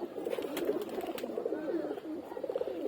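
Pigeons held for sale coo softly in a continuous, overlapping low burble, with a few faint background knocks and no talk.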